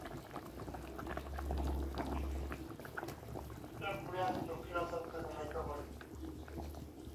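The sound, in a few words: curry gravy boiling in a pot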